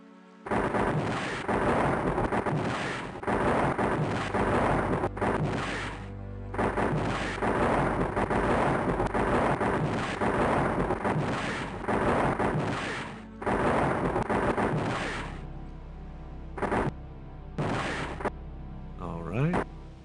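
A lightning spell is cast in Quest for Glory IV: Shadows of Darkness, bursts of loud crackling, booming thunder-like blasts repeating over about fifteen seconds, then a few shorter cracks as the effect fades.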